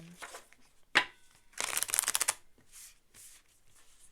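Cards are shuffled by hand during a tarot-style reading: a sharp riffle snap, then a dense rapid flutter of cards lasting under a second, followed by softer scattered shuffling rustles, close and fairly quiet.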